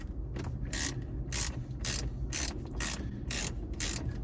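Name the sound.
ratchet with deep socket turning 7mm bolt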